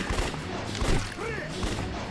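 Enemy gunfire in the Yakuza 3 Remaster action game, a burst of quick shots and impacts mixed with game effects, with a voice talking over it.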